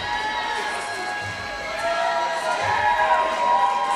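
Crowd cheering at an MFC 20 fight night, a dense roar of many voices that stays loud and steady and rises slightly toward the end.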